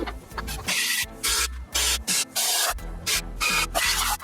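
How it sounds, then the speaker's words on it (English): Brake cleaner sprayed from an aerosol can over a bare B20 engine block during assembly, in several loud, close hissing bursts separated by short gaps. "Just going over it with some brake cleaner, making sure to get all the dust and everything off of it."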